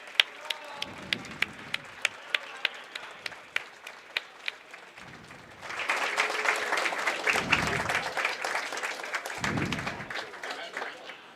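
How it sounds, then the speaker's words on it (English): Audience at a college curling championship quarterfinal claps in scattered sharp bursts, then swells into steady applause, with a commentator talking over the crowd. "Lots of clapping in order here for the warm room."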